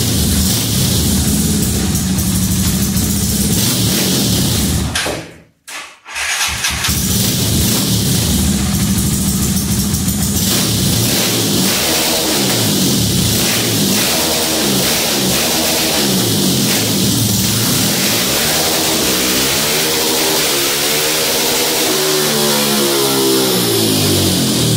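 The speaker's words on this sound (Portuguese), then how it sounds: "Vou funcionar essa moto aqui e vou fazer umas passadas para vocês estar acompanhando ali esses parâmetros que eu passei para vocês" Tuned motorcycle engine, modified for performance, running steadily and revving through repeated passes, loud and close, with rising and falling pitch, one brief drop-out near the start.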